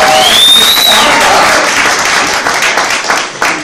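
Audience applause at a live music event, a dense wash of clapping from a crowd that stays loud throughout and begins to thin slightly toward the end, with a faint whistle rising over it near the start.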